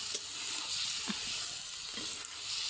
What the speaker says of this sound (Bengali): ফুলকপি ভাজি করতেছি।